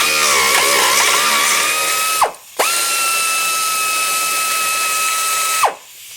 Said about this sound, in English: Then you take loose the bolts that are holding the steering rack to the subframe.